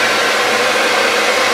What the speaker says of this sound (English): you're also gonna want a concentrator tip. Okay, so got all that going. Gonna make sure that my heat is on high and the air should be on like the lower setting